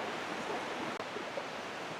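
A jungle river flows steadily nearby at a trail crossing, a broad, even rush of moving water with no voices over it.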